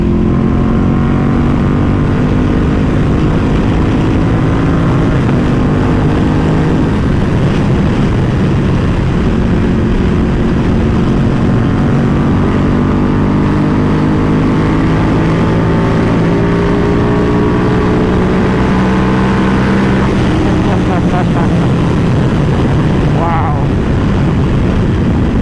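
A custom Ducati Panigale V2 roars continuously at full volume while being ridden, its engine tones sweeping up and down through shifts and crackling downshifts, with wind noise throughout.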